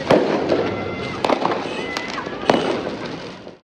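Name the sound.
Diwali fireworks exploding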